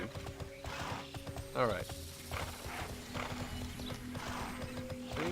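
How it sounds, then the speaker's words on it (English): A horse clip-clops along with neighing and whinnying in the video game TERA, rhythmic hoofbeats and mechanical game sounds over a steady bed, while someone talks over it. "I have a nice horsey."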